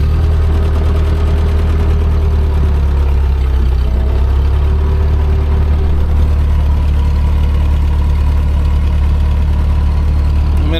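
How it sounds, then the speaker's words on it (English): Ford 8N tractor engine running outdoors in snow, a loud, steady low idle with a continuous rumbling drone and faint knocking texture, holding even for about eleven seconds with no talk. "I'm gonna get the tractor to run"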